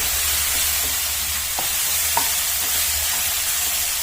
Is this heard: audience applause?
no